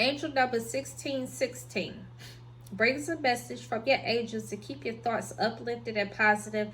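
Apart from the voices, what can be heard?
No everyday noises stand out.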